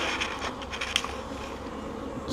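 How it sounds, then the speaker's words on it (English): Honeybees swarming around a very active, aggressive hive crowded with brood, a steady dense buzz holding close and level throughout with no talk. "This hive here is much more aggressive, much more active than the other two hives there."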